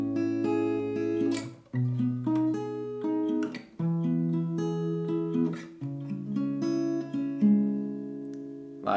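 Plucked acoustic guitar plays the chorus of a song, a steady fingerpicked chord pattern shifting between shapes, close and moderately quiet with no talking.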